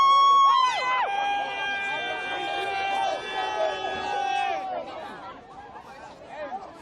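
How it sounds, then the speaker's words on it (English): A densely packed crowd mills outside Millennium Park in Chicago after a performance, a steady babble of many voices with cheering and whooping tones rising over the street hubbub, close and lively. "We're going to be moving along with the crowd, which is exceedingly packed at the moment."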